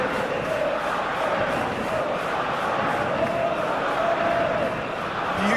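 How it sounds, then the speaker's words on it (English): Stadium crowd noise from an eFootball 2021 simulated match between Scotland and Brazil: a steady, dense roar of spectators swelling slightly, continuous throughout with no break. "Well, the crowd clearly like what they just saw."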